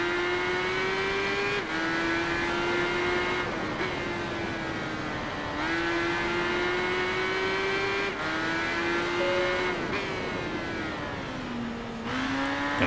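A BMW Motorrad K1200R motorcycle engine races in the Tourist Trophy video game, holding a steady, loud drone that rises in pitch and drops at each gear change, about six shifts in a row, with no talking.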